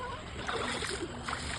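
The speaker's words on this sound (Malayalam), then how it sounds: "വെള്ളത്തിൽ കളിക്കുകയാണ്" Faint splashing and sloshing rise from people playing in the water of a village stream in Akkikkavu panchayat, heard as soft, irregular water movement against a steady outdoor hiss.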